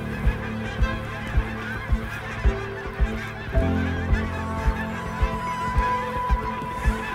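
A flock of geese honks steadily, with repeated sharp calls recurring roughly every half second over a dense background of bird noise.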